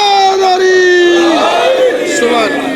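A crowd at a religious gathering chants Subhan Allah in unison, a loud sustained chorus of voices rising and falling across the space.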